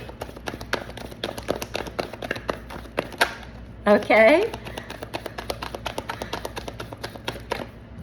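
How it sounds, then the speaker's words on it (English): A deck of tarot cards is shuffled in quick, crisp riffling bursts, a rapid train of light slaps and flutters, interrupted briefly while a person speaks. "I'm gonna keep shuffling."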